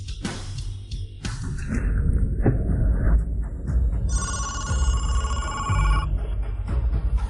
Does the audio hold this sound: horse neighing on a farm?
no